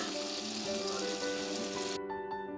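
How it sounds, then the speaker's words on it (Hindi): Chicken pieces rubbed with turmeric and salt fry in oil for chicken tikka pulao, giving a dense, even hiss of sizzling. The hiss cuts off abruptly near the end, leaving a faint hum and a few light ticks. "मैंने चिकन को ऑयल में हल्दी और नमक लगा के फ्राई के लिए डाला हुआ है और ये तकरीबन 10 से 15 मिनट से फ्राई हो रहा है।"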